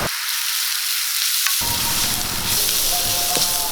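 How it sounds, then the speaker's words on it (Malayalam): Chopped shallots and onions with a pinch of salt sauté in a hot pan for chicken kondattam, giving a loud, steady close sizzle with a brief quieter moment near the start and no talk. "നമ്മൾ അരിഞ്ഞു വെച്ചിട്ടുള്ള സവോള നമുക്ക് നല്ലപോലെ ഒന്ന് വഴറ്റിയെടുക്കാം"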